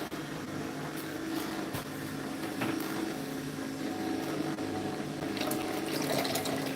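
Fresh juice with mint and coriander pouring out of a blender jug, a steady close liquid rush with faint clinks and splashes throughout.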